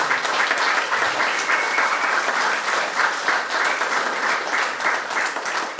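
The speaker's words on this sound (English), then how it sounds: "Let's give a round of applause for all of your awesome contributions." Audience applause at a community forum on local corruption, with steady, fairly close clapping that runs evenly for about six seconds without fading.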